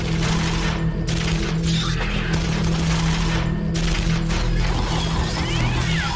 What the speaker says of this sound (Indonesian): juga menembaki makhluk tersebut